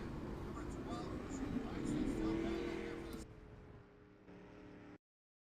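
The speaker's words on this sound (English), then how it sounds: "we're going to see this drag race down to the start finish line" Dirt track race cars at Williams Grove speedway roar together toward the start-finish line in a drag race, a dense engine drone that swells then cuts to a quieter, fainter rumble, with a voice talking over it.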